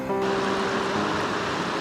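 The small West Fork of the Gallatin River near Big Sky, Montana, rushes and burbles as a steady, close wash of running water with no breaks.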